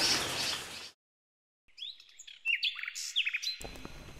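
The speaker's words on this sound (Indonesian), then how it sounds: "yang di sebelah kakak ini adalah merupakan salah satu jenis burung, yaitu burung duri" A small bird chirps and tweets in short, bright bursts that start after a burst of noise and a brief silence. The calls are close and clear, with no talking.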